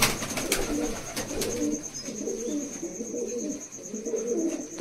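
A purebred Malwai pigeon coos in a steady series of soft, throaty, rolling calls, close by and fairly loud, with no talking over it.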